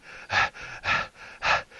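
A voice mimics heavy panting for a creature in a Dungeons & Dragons tabletop session, three strong breathy gasps in a steady rhythm, close and alone.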